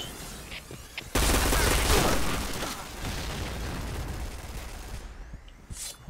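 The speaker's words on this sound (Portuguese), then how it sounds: "A louca estourou a merda do barril." A barrel explodes in a shooter video game with a sudden loud boom that rolls into a long crackling, gunfire-like rumble, fading slowly over several seconds.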